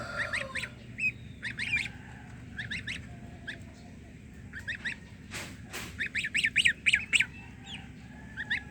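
Young farm geese penned close together give bursts of loud, harsh squawks and honks in uneven clusters over a low steady background, with occasional quieter stretches.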